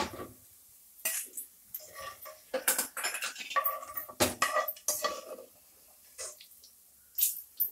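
Roasted coriander and cumin seeds are scooped out of a metal pan onto a plate, giving close, scattered clinks, scrapes and rattles of utensil against cookware, separated by short quiet gaps.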